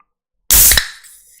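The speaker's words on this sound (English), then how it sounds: "I'd have a Guinness, a good can of the old black, which sounds a little like this." A can of Guinness stout pops open with one sharp, loud hiss-crack that quickly fades into a soft lingering fizz.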